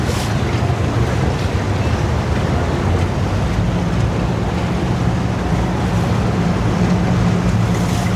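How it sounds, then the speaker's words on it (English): A big cabin cruiser motoring through the channel under the Destin Bridge near Crab Island: a loud, continuous engine drone and low hull rumble mixed with wind and rushing water, steady throughout with no pauses. "Nice big old cabin cruiser that just came through the channel under the Destin Bridge"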